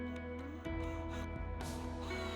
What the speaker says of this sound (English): That noise is the chuck disengaging